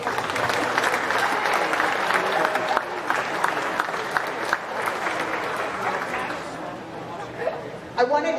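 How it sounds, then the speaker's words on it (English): Steady, loud applause for exhibitors from an audience filling the room at a county fair llama and alpaca show, with crowd chatter mixed in, fading slightly near the end. "These exhibitors, a big round of applause."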